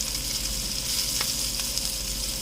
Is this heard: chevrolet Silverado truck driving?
no